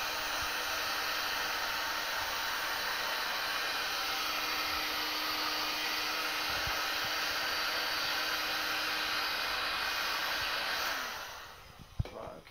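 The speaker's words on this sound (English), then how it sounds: "heat the heat shrink up." Heat gun shrinking heat shrink tubing on a mains filter plug, a steady close blowing hiss and whine that runs unbroken before cutting off near the end.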